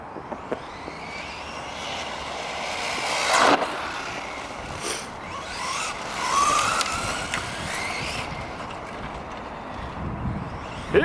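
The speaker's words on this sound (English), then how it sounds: "With this brushless combo, it's transformed this truck into a fast road car." A Traxxas Ford GT RC car converted to brushless power races past, its high electric whine rising and falling in repeated fast passes, loud surges near then fading, over outdoor background noise.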